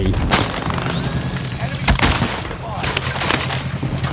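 AR rifle gunfire in the video game Call of Duty Warzone, loud sharp shots in rapid bursts over game background noise, with a voice talking alongside.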